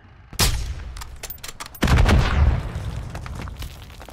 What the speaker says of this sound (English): You're gonna shoot a rocket launcher at us?